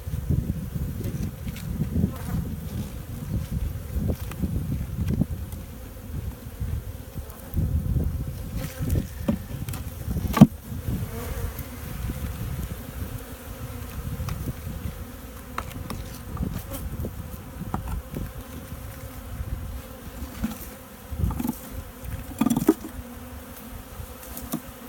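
Bees buzz around honey in a steady, close, low hum, with individual insects droning past the microphone and occasional bumps and handling knocks.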